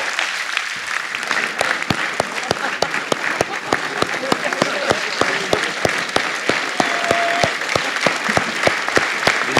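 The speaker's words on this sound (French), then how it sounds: "Vous pouvez l'applaudir." Audience at a public Q&A with Philippe de Villiers of Puy du Fou applauds steadily for about ten seconds, a dense, even wash of clapping with a few sharper claps standing out near the front.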